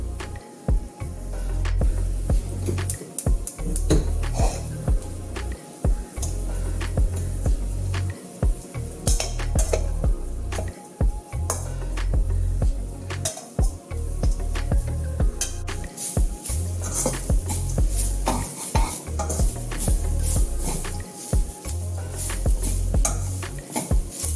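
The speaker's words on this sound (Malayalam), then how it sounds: "തേങ്ങ ചിരകിയെടുത്ത് ഒരു തേങ്ങ അത് നമുക്കിനി ഒന്ന് വറുത്ത് എടുക്കാം" Grated coconut roasting in a pan for protein laddu, with steady scraping and clinking of a spoon against the metal pan, continuous and close throughout, with a faint background hum.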